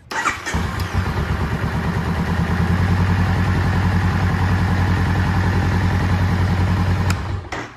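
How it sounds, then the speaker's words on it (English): A motorcycle engine cranks over and fires up, then settles into a steady, loud, close idle that runs for several seconds before cutting off. "Now we're gonna start the bike and let it idle for about five to 10 seconds."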